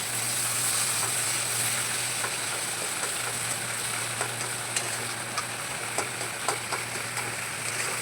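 Banana flower and potato filling with red-fried onion sizzles steadily in hot oil in a pan, a loud continuous hiss with soft scraping stirs toward the end.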